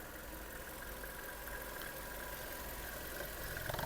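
A Skoda Octavia 1.6 petrol/LPG car engine idles steadily at a low, even rumble, close and constant, with no voices.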